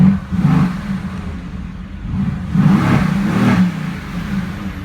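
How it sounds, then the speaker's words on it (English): A 2017 Mercedes-AMG GT S Edition 1 exhaust in regular mode revs twice, with deep rising engine swells and a steady rumble between them, loud and close. "let's go and listen to the car in regular mode."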